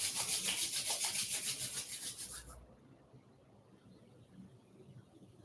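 Palms rubbing together in front of the chest during a yoga practice, a soft, close rhythmic swishing friction lasting about two and a half seconds before fading into quiet room tone.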